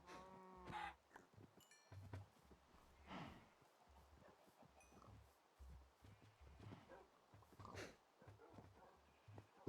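Cows lowing on a Minecraft farm, a few synthetic moos spaced through the stretch at moderate level, with other soft game sounds and brief clicks around them.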